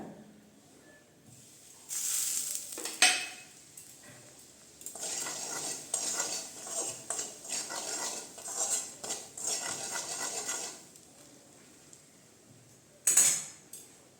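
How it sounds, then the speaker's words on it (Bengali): Cumin, coriander and chilli powder frying in mustard oil in a kadai, with metal utensil scrapes and stirring clatter in bursts amid a soft sizzle, then a brief sharp clink near the end. "দিয়ে দেব এখন জিরার গুঁড়া, ধনিয়ার গুঁড়া,"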